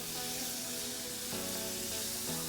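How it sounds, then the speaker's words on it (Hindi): Marinated chicken with garlic fries in oil over high heat, giving a steady, even sizzle that holds at a quiet level throughout, with no talking. "तेज़ आंच पर आप फ्राई करें जब तक ये कलर"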